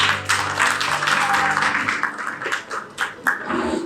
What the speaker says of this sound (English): Round of applause before she speaks.